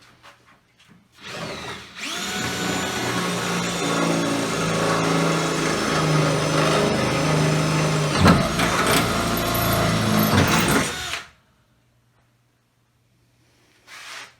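A power drill with a long extension bores bolt holes into a car body, whining steadily for about nine seconds with a brief catch partway through before stopping, with no talking.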